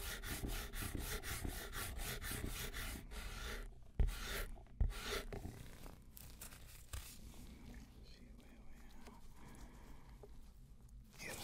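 Wood is sanded by hand in a craft workshop, a steady rasping scrape in quick strokes at first, then a couple of sharp knocks and softer, sparser rubbing, quiet and close.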